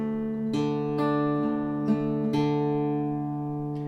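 Fingerstyle acoustic guitar pattern for the fiddle tune Angeline the Baker, pinching strings 6 and 3 together and then picking 4, 2, 6, 3, 4, with four clear plucked attacks ringing out over sustained bass notes, played close and alone.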